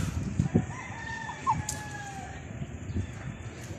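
Chickens cluck and crow over a steady outdoor bed of noise, with a rooster's drawn-out call rising in the middle, moderately near.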